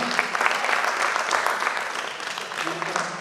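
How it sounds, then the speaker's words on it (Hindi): An audience at a felicitation and poetry-recital gathering breaks into steady clapping, a continuous patter of many hands at moderate loudness, with faint voices mixed in. "तो जोरदार तालियां हमारे शमीम भाई के लिए।"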